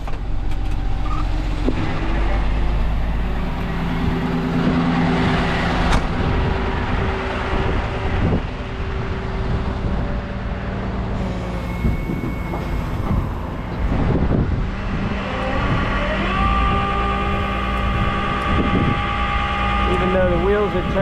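A wrecked Honda from a head-on collision being winched up onto a tow truck bed, a steady loud mechanical rumble with groaning, scraping tones and a rising whine late on, continuous for about twenty seconds under wind noise.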